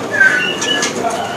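A cucak cungkok songbird's calls ring out in a short burst, a few whistled notes over a busy background of other chirps and a faint murmur.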